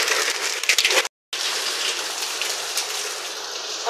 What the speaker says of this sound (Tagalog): Umuulan po ng yelo.